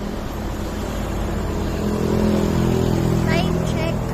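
Steady traffic rumbles along Marcos Highway in the early morning, with passing cars and motorcycles droning continuously and swelling slightly louder midway, heard from roadside on a walk.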